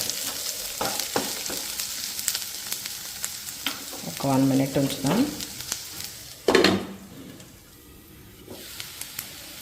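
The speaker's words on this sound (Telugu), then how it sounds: "దీనిలో ఇప్పుడు నాలుగు వెల్లుల్లి రెబ్బలు వేసుకుందాం ఇవి కూడా కొంచెం ఫ్రై అయిన తర్వాత" Garlic cloves frying in oil in a pan give a steady sizzle with occasional stirring scrapes, fairly close, and a person speaks briefly partway through before the frying quiets toward the end.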